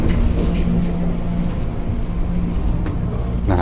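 A KRL commuter train bound for Manggarai, heard from inside the car: a continuous rumbling roll with faint clicks and creaks, with muffled talk in the background.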